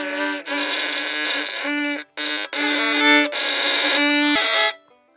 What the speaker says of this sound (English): at first, it won't sound like a clean note. It'll sound like this.